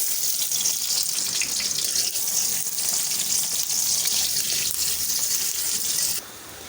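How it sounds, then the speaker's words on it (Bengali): Onions hit hot oil in a wok and give a dense, loud, continuous hiss that holds steady before dropping in level near the end, close up and with no speech. "কড়াইয়ের মধ্যে দেওয়া হয়েছে তেল। তেলটা গরম হওয়া পর্যন্ত অপেক্ষা করছি। দিয়ে দিচ্ছি পেঁয়াজ"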